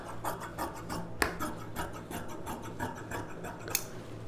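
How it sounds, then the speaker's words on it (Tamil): Scissors cut through the border of a silk saree in quiet, close snips and rasps, with a few sharper clicks as the blades close. "இதை நம்ம வந்து தனியாக கட் பண்ணி எடுத்துக்கலாம்."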